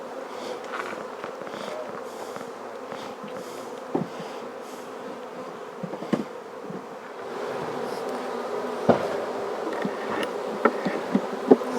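Honey bees buzz continuously in a bee yard, a close, steady droning swarm with individual insects passing near, plus occasional faint footsteps and handling noises.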